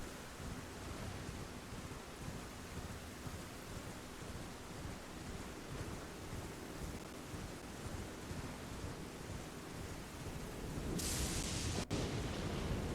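Steady stormy rumble of thunder and rain-like hiss fills an Elden Ring landscape, constant and moderately distant, with a sudden brighter crackling burst near the end and a single sharp lightning snap.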